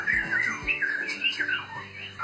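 A white-rumped shama calls in rapid, warbling chirps and squawky notes, fairly close and continuous, with no talking.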